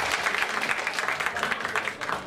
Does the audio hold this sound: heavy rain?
no